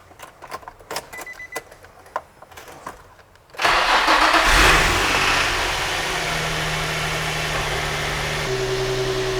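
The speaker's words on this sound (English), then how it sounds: "I'm starting the car." A Nissan G35 engine cranks and fires: scattered clicks and handling noises first, then a loud starter whir that settles into a steady close idle with a faint AC hum.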